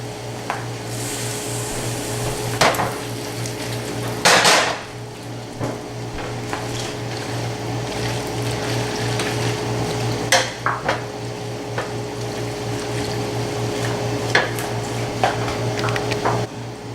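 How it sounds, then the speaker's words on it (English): Pasta tossed and stirred in a hot pan used for searing steak, with a steady sizzle, scraping and clinks of utensils against metal, plus one sharper clatter partway through; a low constant hum runs underneath. "I'm just adding a little bit of pasta to the pan now to get all that flavor off of there. Toss it together."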